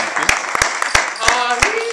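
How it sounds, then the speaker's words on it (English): A club audience on a Saturday night claps and applauds, with scattered claps under a loud voice talking over the crowd. "Big round of applause."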